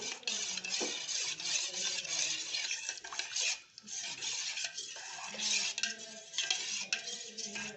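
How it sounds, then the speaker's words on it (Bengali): Powdered milk is stirred into water with a spoon in a bowl, a busy close scraping and clinking that runs steadily with a brief dip partway through, with no voice. "এই প্যাকেটটা দিয়ে আমি কিন্তু দুধটাকে খুব ভালো করে এর সঙ্গে মিশিয়ে নেব।"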